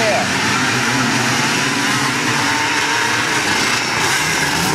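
Motocross bikes roar off the start of a race at a 2009 event in Oktyabrsky, Bashkortostan, a loud, dense wall of engine noise from several machines at once, with a commentator speaking over it.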